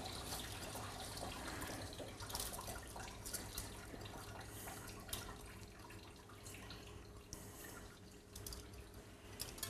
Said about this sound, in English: And strain our rice.